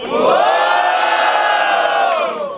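A loud crowd roars and cheers continuously, whoops and shouts blending into one sustained wall of noise.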